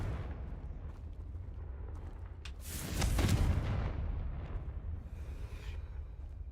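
A Confringo fire spell goes off in Hogwarts Legacy, a single booming blast with a rumbling roar that swells, then slowly fades into a lingering crackle over quiet background ambience.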